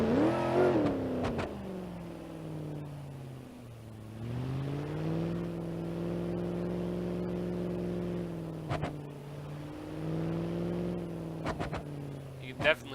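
The Granny Cart, a nitrous-boosted build in the BeamNG.Drive game, revs with a loud, droning engine note that dips, then climbs and holds as boost comes in. A few sharp clicks and pops break through near the end.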